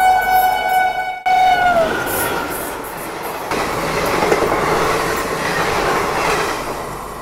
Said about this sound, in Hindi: यहाँ पे शायद से जो हावड़ा चेन्नई मेल है ना कोरोमंडल एक्सप्रेस, शायद उसका ओवरटेक जो है वो शायद हो सकता है